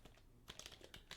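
Fast, light typing on a computer keyboard, a quick irregular patter of key clicks with a few sharper strokes, heard close and quiet with no talking.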